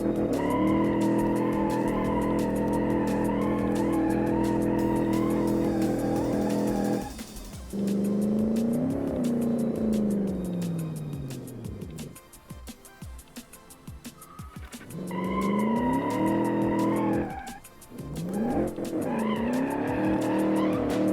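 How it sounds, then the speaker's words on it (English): A 1956 Silverton Concept King car does a burnout: a loud engine roar with long tire squeals and skids, dipping briefly twice before the revving and screeching resume, with no talking. "we're gonna try to do a burnout"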